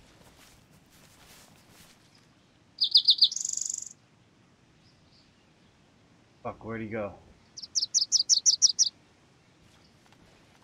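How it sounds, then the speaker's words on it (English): Bird chirping in the video game DayZ, two bursts of bright, rapid tweets, one short near the start and a longer trill later, over quiet ambience with a brief low thump between and a voice speaking. "Bird is so loud."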